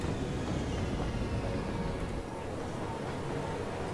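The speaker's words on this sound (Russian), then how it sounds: "Вот поезд приходит, да," A train pulls into a station in the city-building game Cities: Skylines, a steady rumbling rail noise that fades slightly partway through, with no speech.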